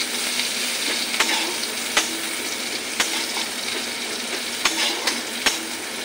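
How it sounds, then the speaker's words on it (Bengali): Onions fry in oil in a wok, giving a constant loud crackling sizzle punctuated by a handful of sharp metallic taps as a spatula stirs them. "পেঁয়াজটিকে হালকা করে ভাজা করে নিই।"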